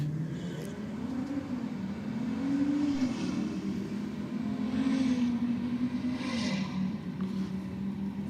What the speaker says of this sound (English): Braden down for another run with the Audi in the Aeroflow lane